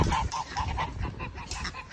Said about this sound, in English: So in here is the daughter goose